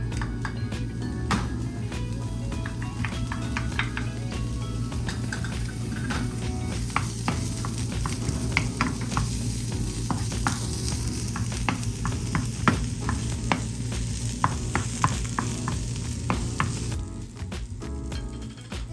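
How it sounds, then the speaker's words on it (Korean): Garlic and scallions fry in olive oil in a pan, a steady close sizzle running throughout with frequent scraping stirs and utensil clicks, the sizzle easing slightly near the end. "먼저 팬에 올리브유를 두르고 마늘과 파를 넣어서 파기름을"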